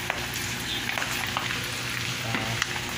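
Hot cooking oil crackles and pops steadily around pieces of frying pork, a dense continuous sizzle scattered with sharp little spits, heard up close with no talking.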